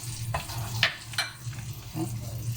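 Fish sizzles in a pan over garlic and ginger, a steady close frying hiss broken by a few brief stirring scrapes.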